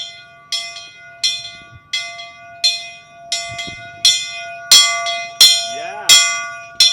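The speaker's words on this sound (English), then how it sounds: "So apparently these bells are the sister city bells." Sister city bells ring in a steady sequence, about a dozen bright metallic strikes roughly half a second apart, each leaving a long ringing tail, heard loud and close from beneath, with faint voices in the background.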